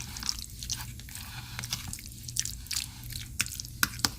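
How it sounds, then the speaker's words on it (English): Tuna salad with mayo and mustard being stirred close up, a soft squishy, wet clicking of a utensil working through the thick mixture in small irregular strokes. "Stir it all up. Mix it really good."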